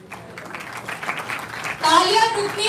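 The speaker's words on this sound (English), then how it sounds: "round of applause for our first panelist" An audience at an HR conclave at an engineering institute in Ghaziabad breaks into applause for the first panelists, a burst of clapping rising at the end after a stretch of talk from the host.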